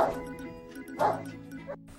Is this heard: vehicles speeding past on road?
no